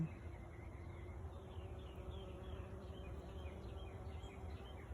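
Bees pollinating cucumber plants buzz softly nearby, a faint continuous drone with a few passing whines over a low outdoor background hum.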